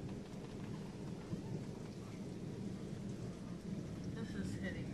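Thunder rumbling during a heavy rainstorm in Boston, with a tornado reported nearby: a steady, dense low roar of rain and rolling thunder filling the whole stretch, with no clear single crack.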